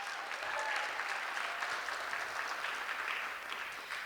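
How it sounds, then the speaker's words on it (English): A multicultural show audience applauds a performer with a steady, dense wash of clapping that holds evenly for a few seconds and tapers slightly at the end. "Let's give Jaden another round of applause."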